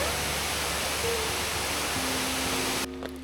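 Boksungatang waterfall in a Seoraksan valley on a rainy day, a steady broadband roar of falling water that holds evenly and close, then drops abruptly near the end to a quieter hiss.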